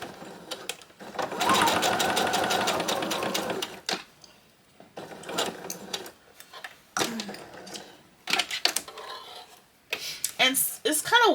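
A sewing machine backstitches a bag seam in a long continuous burst of fast stitching, followed by shorter stop-start runs with pauses between them, heard up close.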